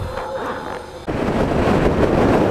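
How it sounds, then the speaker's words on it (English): Strong wind buffeting a microphone while riding a motorcycle on the road, a steady loud roar that jumps sharply louder about a second in and stays heavy, with no talking. "The fucking wind is too fucking strong."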